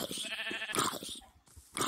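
Sheep bleat in Minecraft, a few short wavering calls in quick succession, clear and close.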